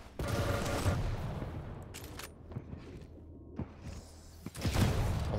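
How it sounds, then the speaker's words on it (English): Shotgun shots in a competitive first-person shooter match, loud booming blasts at the start and end with scattered smaller gunfire and thuds between. "Oh, the shotgun."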